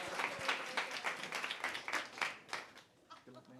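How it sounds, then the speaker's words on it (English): An audience at a tech design panel applauds a speaker being introduced. Scattered, distinct claps form a faint ragged patter that thins out by the end. "If you want to give him a round of applause."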